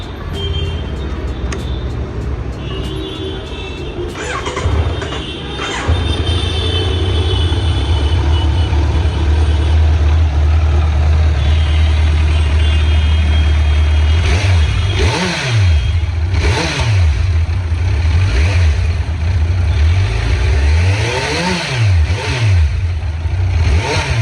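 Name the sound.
inline-four motorcycle engine revving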